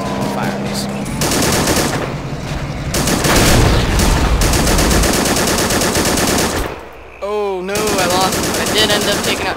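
An M1919A6 machine gun in Men of War: Assault Squad 2 fires loud, rapid bursts in long stretches, broken by short pauses and one brief gap with a voice-like call.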